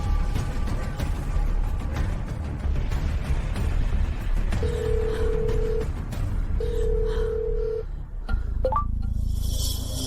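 A telephone is dialed and then rings back, with two steady electronic ring tones sounding one after another over loud, busy background noise.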